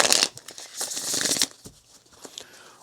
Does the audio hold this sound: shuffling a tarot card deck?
yes